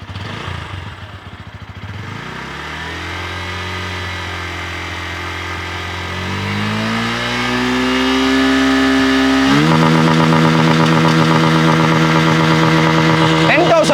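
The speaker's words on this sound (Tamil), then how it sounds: "ஸோ ஸ்டார்ட் பண்ணிட்டேன். இது ஐடல் நோட்டு." A motorcycle comparable to the Yamaha MT15 is started and settles into a steady idle, then its exhaust note climbs as the engine revs higher, loud and close, with a rougher, busier tone at the top.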